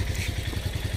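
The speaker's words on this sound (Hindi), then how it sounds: "साबिर भाई अपनी बाइक पार्क कर रहे हैं।" A motorcycle engine idles nearby while being parked, putting out a quick, even low thumping pulse with a faint clatter.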